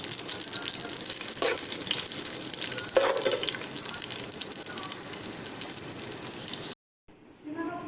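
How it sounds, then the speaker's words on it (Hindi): Finely chopped onions frying in hot oil in a karahi, a steady close sizzle with a few louder stirring scrapes, then a brief break before the frying resumes. "फिर इसमें हम बारीक कटी हुई 2 अदद प्याज डाल देंगे और इसको हम लाइट ब्राउन गोल्डनी शेड में कर लेंगे"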